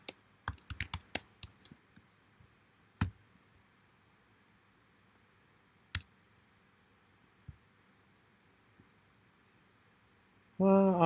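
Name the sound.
typing on a computer keyboard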